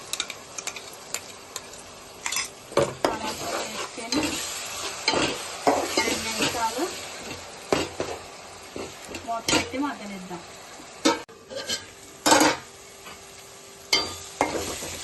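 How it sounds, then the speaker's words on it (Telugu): Tomato going into a pan of onions for Telugu-style fish curry, stirred with a spoon that clinks and scrapes in irregular bursts over a low sizzle, close up, with faint talk at times. "టమాటా కూడా వేసుకుందాం"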